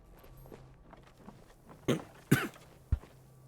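A few short, sharp coughs burst out one after another over a quiet background, the middle one loudest, with a soft shuffle of movement earlier on.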